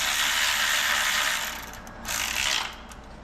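A ratchet clicks rapidly as transmission cover bolts are tightened, two close bursts of steady ratcheting with a short pause between them.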